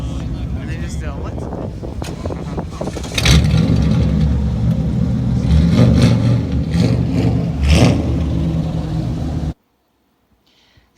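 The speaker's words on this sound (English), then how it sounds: "a proper 800 horsepower estimated dragster" Loud, close engine of an 800-horsepower dragster at a cars and coffee meet, revving hard and rumbling continuously for several seconds before cutting off abruptly, with crowd noise underneath.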